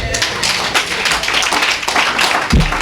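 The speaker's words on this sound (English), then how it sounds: "Y'all can clap better than that" An audience at an evening board meeting claps in a loose, uneven patter of hand claps, fairly close and loud, with a heavier thump near the end.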